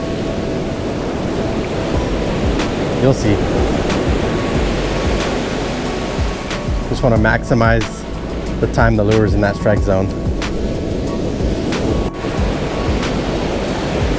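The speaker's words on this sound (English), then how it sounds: "See how now the waves are coming in?" Ocean surf rolls onto a sandy beach where surf perch are being fished. A continuous broad wash of breaking waves runs under someone talking nearby.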